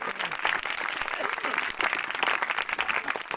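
An audience at a Christmas church service breaks into applause, a dense continuous wash of many hands clapping at a moderate distance, fairly quiet, with faint voices mixed in.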